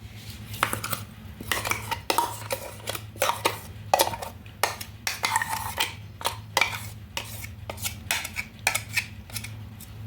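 A spoon stirs a sugar and oil mixture with semolina batter for a tutti frutti cake, giving close, rhythmic metallic clinks and scrapes against the bowl, with a faint low hum underneath.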